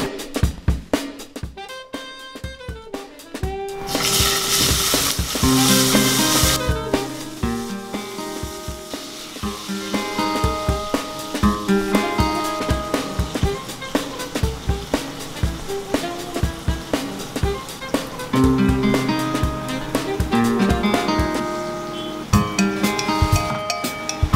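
Spices frying in hot oil for Tambada Rassa sizzle loudly and continuously, broken by frequent clinks and scrapes of a utensil stirring the pan.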